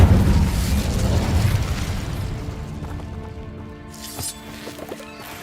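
An Incendio fire spell from Hogwarts Legacy erupts in a loud burst that slowly dies away into a fading, crackling tail over several seconds.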